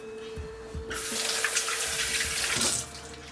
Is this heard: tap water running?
yes